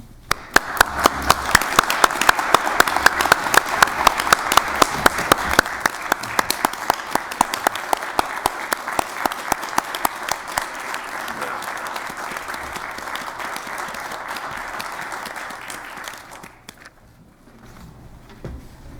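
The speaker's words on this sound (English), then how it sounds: "I'd like this body to give you a round of applause" Applause at a county board annual meeting, a sustained burst of many hands clapping that holds steady for about sixteen seconds, then thins out and fades, with a few loud nearby claps standing out.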